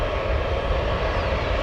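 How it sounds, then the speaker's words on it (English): An airliner at O'Hare Airport in the evening produces a broad, steady engine roar, loud and fairly near, with no voices. "One of my personal favorite airplanes."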